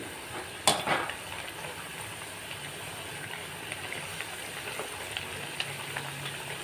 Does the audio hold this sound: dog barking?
no